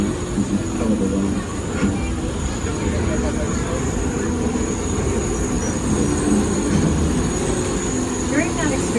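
Steady rumble of a studio tour tram at Universal Studios Hollywood riding along rails, with a faint wheel squeal toward the end and murmuring voices underneath.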